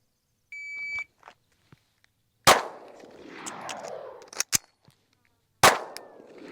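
Pistol shots during a reload drill at a range: a short electronic timer beep, then sharp loud cracks spaced a few seconds apart, with faint clinks and handling noises between them.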